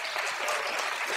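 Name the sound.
audience applause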